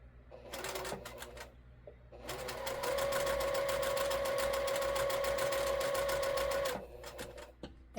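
A sewing machine chain-piecing quilt units runs in short bursts, then settles into one long, steady, loud stitching run before stopping, with soft handling noises between runs.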